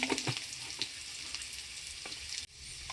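Onions sautéing in a pan give a steady crackling sizzle, with soft scraping as they are stirred and a brief gap near the end.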